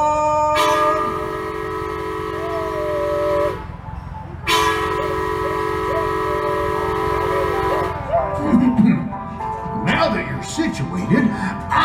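A park ride train at a recreation park in Long Beach, California sounds two long sustained horn blasts, then rumbles off with clattering wheels and mechanical noise as it departs.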